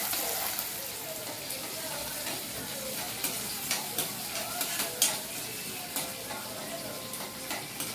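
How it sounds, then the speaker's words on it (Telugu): Sliced onions sizzle steadily in hot oil in a pan for beetroot rice, a continuous bright crackle with occasional spatula scrapes, close and fairly quiet, with no voices. "కట్ చేసి పెట్టుకున్న ఉల్లిపాయలు వేసాను. ఉల్లిపాయలు కొంచెం వేగాలండి"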